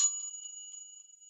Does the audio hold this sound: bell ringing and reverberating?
yes